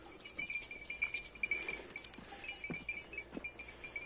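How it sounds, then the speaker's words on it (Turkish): Saanen goats bleat a few times over a steady outdoor background, with faint clinking like small bells now and then. "Şimdi keçilerimiz sırada bekliyorlar."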